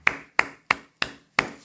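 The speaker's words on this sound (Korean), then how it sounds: "하나님께 영광의 박수를 한번 올리겠습니다" A congregation at a church service claps in praise of God: five sharp, evenly spaced, crisp claps, loud and close, each one ringing briefly before the next.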